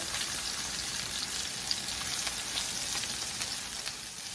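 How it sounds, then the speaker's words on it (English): A medium onion sautéing in extra virgin olive oil in a pan, a steady close hiss and crackle of frying that holds at an even level throughout with no talking. "We're going to saute this up for about 3 minutes."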